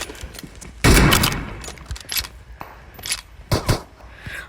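Sniper rifle shots ring out in a video game's sniper mode, a loud sharp crack followed by several quicker, lighter shots and clicks over a few seconds, heard up close without speech.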